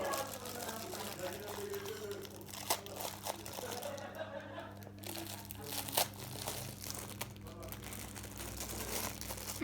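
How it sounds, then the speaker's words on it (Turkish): New shoes being unboxed, with crinkling and rustling of paper packaging in quick irregular bursts, fairly close but moderate in level, over a low steady hum. "Arkadaşlar şimdi gelin ayakkabıları açalım sizlerle birlikte"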